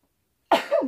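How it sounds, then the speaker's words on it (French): A single sudden sneeze bursts out after a moment of silence, close and fairly loud, with a short trailing exhale. "un éternuement a surgi"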